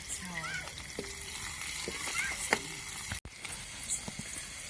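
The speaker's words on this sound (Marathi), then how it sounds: "मिरच्या बी आपल्या चांगल्या परतलेल्या आहे" Green chillies frying in a pan give a soft, faint sizzle with scattered light crackles and stirring clicks, quiet and close, with some indistinct background noise.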